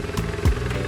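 A 250cc ATV engine churns through a muddy water pool, a close, rough mid-pitched drone with a brief lower surge partway through.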